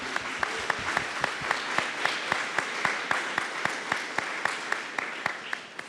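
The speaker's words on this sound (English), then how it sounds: "Give yourselves a round of applause for being here." Audience applause at a community launch event, a dense wash of many hands clapping steadily with sharp individual claps standing out, fairly close and sustained before tapering off at the end.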